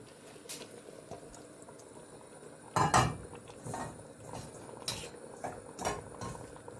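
Kubba stew bubbling in a pot with a low steady simmer, broken by a few louder clinks and knocks of pot or utensil, no voices.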